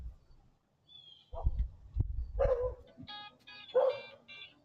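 Dog barking at a neighbor's dog outdoors: a few sharp, moderately distant barks and yips in an irregular burst over low background rumble.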